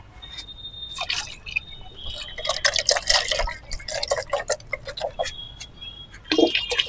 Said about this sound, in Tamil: வாங்க நம்ம செடிக்கு தண்ணி ஊற்றிக்கலாம்.